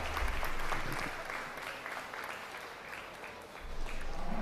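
Applause from an audience at a county youth fair livestock show for young showmen: steady, fairly faint clapping from a crowd, swelling again near the end.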